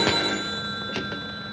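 An old telephone bell ringing in a 1930s office setting, a steady sustained electric ring with a couple of brief bursts, close and clear.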